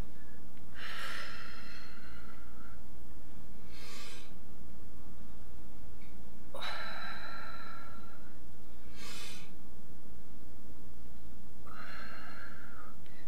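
Deep, audible breaths in and out during side-bend stretches in a beginners' workout, a steady series of about six long, airy inhalations and exhalations spaced a few seconds apart, close and fairly loud with no speech over them.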